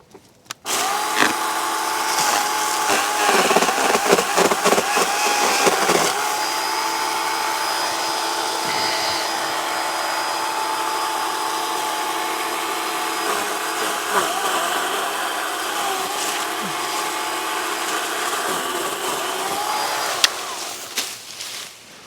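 Litheli U20 cordless pole saw trimming a large feather palm, a steady motor whine running almost the whole time with brief cutting bursts and rattles near the start and occasional clunks.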